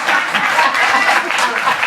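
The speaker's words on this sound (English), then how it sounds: "Keep clapping, y'all. Keep clapping, keep clapping, keep clapping. Keep clapping" Audience at a live show claps and applauds in a dense, steady burst throughout, with a voice speaking faintly over the clapping.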